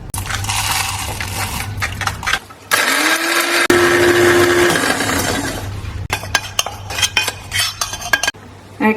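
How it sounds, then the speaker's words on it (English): An electric grinder pulverises toasted dry spices for a Thai beef massaman curry, loud whirring bursts with rattling contents, a steady hum with a rising motor tone in the middle, then more rattly grinding pulses. "let this cool down, and then grind it in my grinder"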